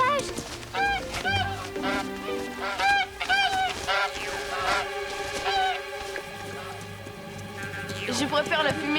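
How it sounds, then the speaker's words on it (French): Wild geese honking repeatedly in a cartoon, with a chorus of high, nasal calls over background music and a voice speaking. "Oh, des oies sauvages."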